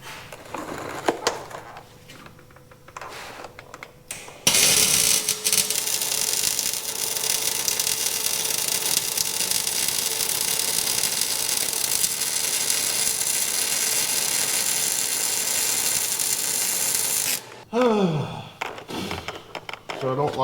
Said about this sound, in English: All right, let's weld her out.